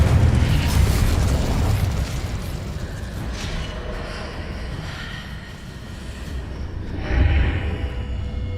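A booming fire-spell blast rumbles loudly in Hogwarts Legacy, fades into a lingering roar, then swells again with a second burst near the end.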